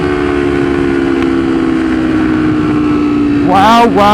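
A Ducati Streetfighter V4 motorcycle idles with a steady loud engine drone, then gives a sharp first-gear rev that rises and falls near the end, heard up close.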